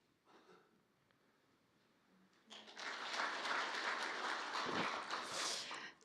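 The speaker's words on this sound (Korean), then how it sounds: "큰 박수로 한번 모시도록 하겠습니다." Audience at an indoor political debate forum breaks into dense, loud applause after a quiet moment with a brief voice, the clapping swelling and holding steady to the end as a lawmaker is welcomed.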